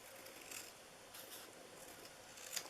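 Scissors cutting through a paper Christmas ornament card, a quiet rasping snip repeated in a few soft strokes, close and faint, with a sharper crinkle at the end.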